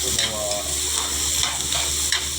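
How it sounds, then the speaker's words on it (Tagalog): Ginger sizzles steadily in a hot pan, with the scrape and clatter of stirring cutting through the constant frying hiss. "Kasi yung ganda kasi pag yung luya ay gigisa para yung juicy niya ay lumabas."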